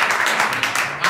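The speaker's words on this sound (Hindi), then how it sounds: "कोशिश की, वेरी गुड, ताली तो बजा के लिए" A small group of students in a classroom claps briefly for a classmate's attempt, a dense, steady patter of hands lasting about a second.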